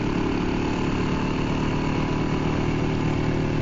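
A motorcycle escorting riders at the 1993 Zofingen duathlon race in Switzerland gives a loud, steady engine drone with no break in volume or pitch.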